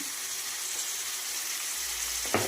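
Ginger garlic paste frying with chopped onions in a pan, a steady close broadband sizzle that holds evenly throughout, with a brief clatter near the end.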